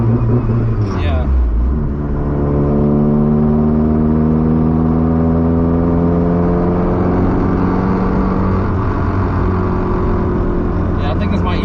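Car engine held at a steady rev just under 4000 RPM, limited by the ECU, a loud droning hum with stacked tonal harmonics that dips once near the start and then holds level for the rest.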